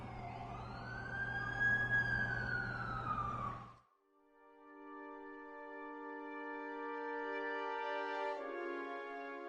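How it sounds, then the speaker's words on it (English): An ambulance siren wails loud and close in rising, falling sweeps, cuts out briefly, then returns as steadier, fainter tones. "That's the ambulance I called."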